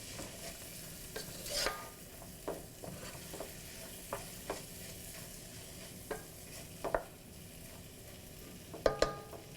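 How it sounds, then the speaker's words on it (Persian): Onions frying in a pot for chicken noodle soup are stirred with a utensil, giving soft scraping strokes and taps at an irregular rhythm over a low, steady sizzle, close and fairly quiet with no talking. "پیاز، خوب به همش میزنم"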